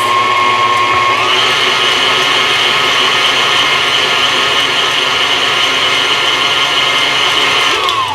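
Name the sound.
electric mixer mixing sour cream crumb cake batter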